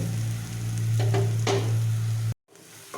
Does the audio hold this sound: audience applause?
no